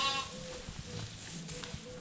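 Sheep and goats bleat in a sheepfold on a farm, a few faint, moderately close calls over steady low barnyard noise, with a little talk in the background.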